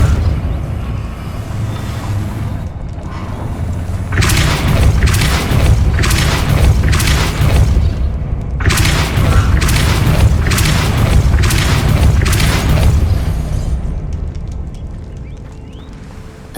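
The Depulso force spell in the Hogwarts Legacy video game blasts out as loud, deep booming rumbles. Several heavy pulses roll in two clusters over a sustained low roar, with no voices.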